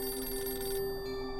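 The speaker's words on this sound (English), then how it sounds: "when the phone rang" A telephone rings in a coroner's home in New York State in 1986, a steady, bright electronic ringing tone that is clear and close, heard alone.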